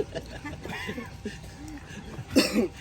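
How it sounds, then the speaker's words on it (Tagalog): A man gives a single harsh cough near the end, close by, after murmuring voices and faint background talk. "Tingnan mo, ubo ubo na po siya."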